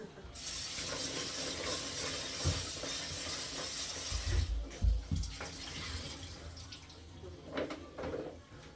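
Tap water runs in a steady rush over vegetables being washed for homemade pickles, with a few soft knocks and thuds from handling near the middle.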